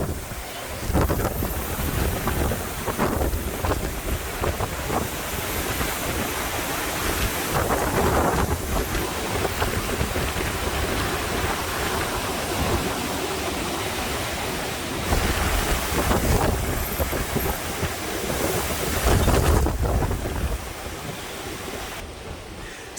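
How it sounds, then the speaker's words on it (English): Strong hurricane wind, from Hurricane Ian in Punta Gorda, Florida, roars continuously into the microphone, surging in heavy gusts with broadband buffeting and no voices. "It's still kind of windy. We're still getting some gusts"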